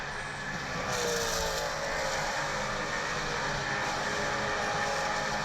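Maserati Trofeo race cars with V8 engines racing at Road America, a loud sustained roar with a pass swelling early and fading slightly, no voices.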